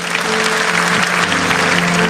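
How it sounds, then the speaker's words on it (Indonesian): A church congregation claps together during an Indonesian sermon, a dense, steady wash of applause from start to finish, with a faint sustained tone humming beneath it. "Kasih tepuk tangan untuk Tuhan."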